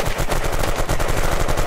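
Gunfire rattles rapidly and loudly, an automatic burst that fills the whole moment with no pause, during a zombie video game.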